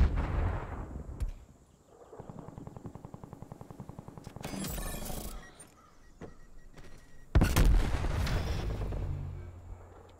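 Gunfire in a first-person shooter video game: a rapid automatic burst, then scattered sharp shots and a loud, heavy blast near the end, with no voices.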